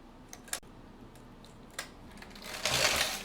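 A knitting machine carriage knits rows of a small baby tee, giving sparse mechanical clicks and clacks followed by a longer, louder sliding whoosh as the carriage sweeps across the needle bed, close and alone.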